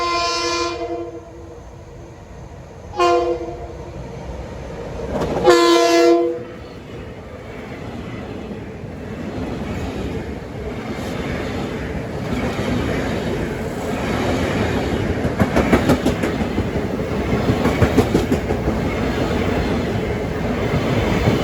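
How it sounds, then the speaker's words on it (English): A westbound equipment train on the Port Jefferson Branch sounds its horn in several loud blasts, then passes close by with a steady rumble of wheels and rhythmic clickety-clack on the rails. "Approaching now at 422, we got a westbound equipment train."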